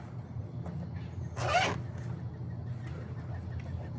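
A single quick zip sounds as a zipper on a rear passenger car seat cover is pulled open, a brief close rasp over a quiet room hum.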